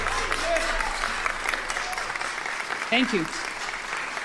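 An audience applauds steadily at a political event while someone speaks briefly over the crowd noise. The clapping is moderately loud and continuous.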